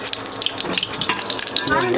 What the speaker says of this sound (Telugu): వాటర్ ఉన్నందుకు ఇప్పుడు పైకి చిట్లుతుంది మొత్తం